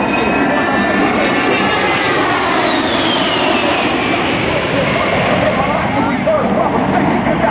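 An A-10 Warthog jet at the 2006 AirPower Over Hampton Roads air show roars past loud and continuous, its pitch sliding as it passes, with an announcer's voice partly audible underneath.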